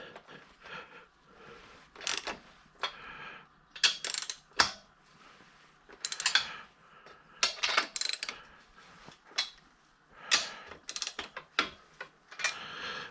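A ratchet loosening a fastener on a gearbox mount in a workshop, repeated clicking bursts in irregular rhythm with short pauses, close and clear with no talk.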